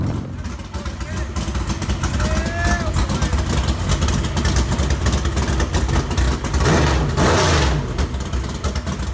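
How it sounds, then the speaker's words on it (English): A Harley-Davidson motorcycle engine fired up on an engine stand runs loud and steady, a dense continuous roar with slight revving swells, with voices faintly mixed in. "we had to fire up the beast on the engine stand"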